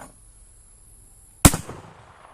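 A single sharp Carcano rifle shot with a gain-twist barrel at an outdoor range, a loud close crack that decays into a brief rolling echo after quiet.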